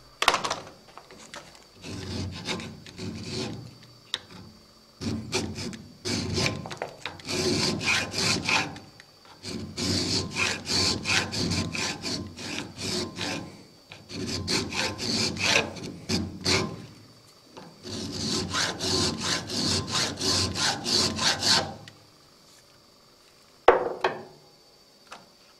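A half-round file rasps over a metal blank clamped in a vise, working in long bursts of rapid, steady back-and-forth strokes with short pauses between them, close and clear with no talking.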